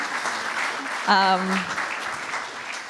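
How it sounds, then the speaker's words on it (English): Audience applause at a leadership forum panel, a steady broadband clatter of clapping lasting the whole stretch, with a brief voice rising out of it near the middle. "we should give a bit of applause actually for taking it on"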